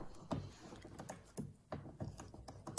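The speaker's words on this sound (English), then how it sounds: "Get them threaded and then use the ratchet to get them all the way in." A hand ratchet drives the large torque-bit screws into an Impala door panel, giving quiet, close, rhythmic clicking in repeated short bursts with brief pauses between strokes.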